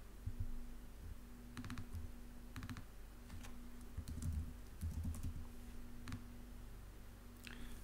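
Product details are typed on a computer keyboard in quiet bursts of soft, close key clicks with brief pauses between, over a low steady hum.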